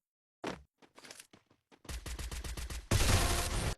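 Gunfire from a video game fight: a few scattered shots, then a rapid rhythmic volley of automatic fire ending in a loud, sustained burst, close and punchy.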